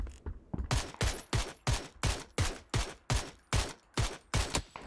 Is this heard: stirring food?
no